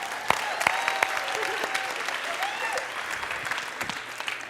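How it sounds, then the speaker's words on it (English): A crowd at a dance performance applauds the dancers, a full wash of clapping with a few sharper claps close by and faint voices under it. "give them a big round of applause, please."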